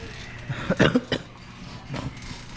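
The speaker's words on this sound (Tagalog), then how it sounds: "Pasensya na kayo guys sa ubo." A couple of short, rough coughs close to the microphone from a person who is ill, followed by a softer cough a moment later, over quiet background.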